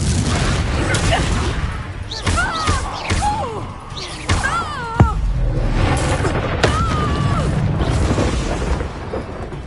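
Confringo spell explosion in a Harry Potter-style game, a series of sharp crashing blasts and thuds mixed with whooshing magical effects and a strong impact midway, with game voices and music underneath.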